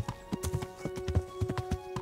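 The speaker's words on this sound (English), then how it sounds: "It's nice having a horse," Horse hooves clip-clop in the video game Kingdom Come: Deliverance, a steady run of close, distinct hoof strikes, joined by a brief whinny.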